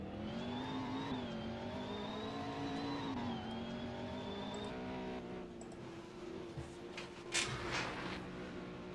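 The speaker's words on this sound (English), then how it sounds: "There's another car going down the pit road." A race car at a 2024 sports car race rolls down the pit road with a steady whining engine tone, fading out partway through as distant track noise and brief bangs take over.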